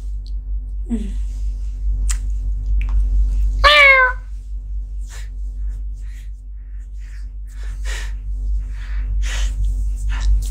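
A cat gives a single clear meow partway through, heard over a steady low hum, with a fainter short cry just before it.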